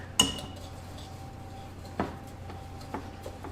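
A utensil clinks against a bowl three times, sharp and close with pauses between, while brown sugar and oatmeal topping is stirred, over a quiet background hum.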